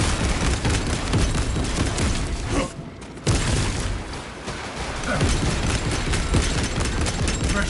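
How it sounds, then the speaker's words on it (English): Frag grenade blast amid gunfire in Space Marine 2 on hard difficulty, a dense continuous roar of rapid shots and booms, loud throughout with a brief dip near the middle before the barrage resumes. "Releasing frag grenade."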